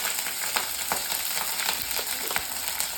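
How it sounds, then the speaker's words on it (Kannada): Mustard seeds with green and dried red chillies sizzle and crackle in hot oil for a tadka, a steady close frying hiss with scattered sharp pops and light stirring, no voices. "ಇವಾಗ ಎಣ್ಣೆ ಚೆನ್ನಾಗಿ ಕಾದಿದೆ, ಇದಕ್ಕೆ ನಾನು ಸಾಸಿವೆ ಹಾಕೋತೀನಿ."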